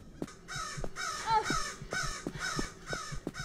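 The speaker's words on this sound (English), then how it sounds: "that bird sound effect is awful" A crow sound effect in the video game Absence gives a rapid series of harsh, repeated caws in a steady rhythm, loud and close, with no talk over it.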